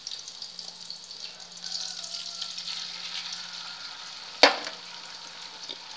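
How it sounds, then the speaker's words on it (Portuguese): Egg frying in a pan for a Brazilian farofa, stirred gently so it stays in chunks: a steady soft sizzle runs throughout, with one sharp utensil knock near the end. "Aí você dá uma mexida assim para que fique aqueles pedaços de ovo"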